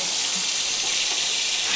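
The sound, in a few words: pointed gourd (potol) frying in a pan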